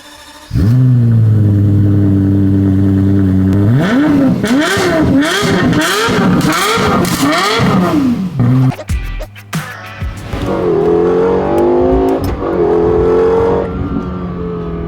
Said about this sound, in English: let's go take this car for a quick spin.